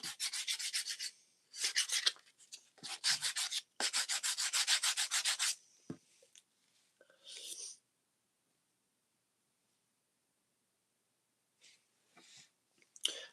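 Hand sanding of a wallet in rhythmic rasping strokes, several bursts of rapid back-and-forth rubbing separated by pauses, close and clear, trailing into quiet with a few faint later strokes.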